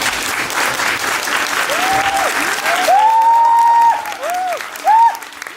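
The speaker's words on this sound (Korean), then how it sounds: "큰 박수로 맞아주시길 바랍니다." A theatre audience at a post-show talk for a play welcomes the actors to the stage with loud clapping that fades after about three seconds, as music with rising tones comes in.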